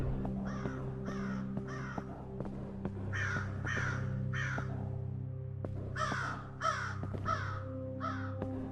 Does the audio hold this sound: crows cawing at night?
yes